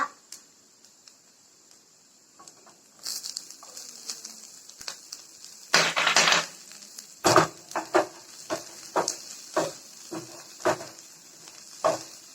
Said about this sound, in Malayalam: അതിനുശേഷം പച്ചമുളക് ഇടുക.